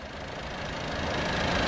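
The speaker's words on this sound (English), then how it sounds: "Has a 2-litre turbocharged 4-cylinder engine" A 2019 Audi TT 2.0 TFSI with a 2-litre turbocharged four-cylinder engine runs steadily at close range, a continuous low hum and rumble that grows slightly louder toward the end, with no talk over it.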